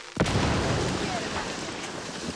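Firecrackers explode inside a wooden attic in a video game, a sharp loud blast at the start trailing into a long, dense rumbling roar that fades slowly.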